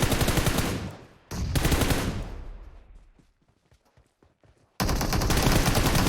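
Bursts of automatic AK rifle fire in the mobile battle-royale game PUBG Mobile, loud and dense, with a long rattling volley, a quieter gap of scattered faint taps, then another loud burst.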